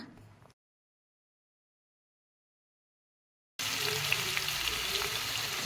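Steady hissing sizzle of crushed garlic frying in hot oil in a kadai, close and continuous, starting abruptly after a long silence.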